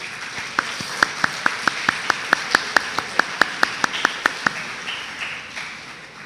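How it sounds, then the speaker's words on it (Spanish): A church congregation claps in a steady, unified rhythm of about seventeen crisp beats over a softer background patter of scattered applause. The rhythmic clapping then stops and only a faint murmur remains. "Fuerte aplauso."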